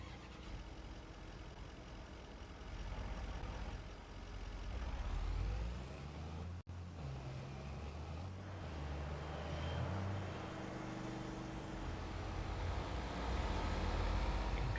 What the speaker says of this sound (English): I did start the engine first